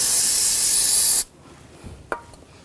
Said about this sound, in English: Little brake parts cleaner.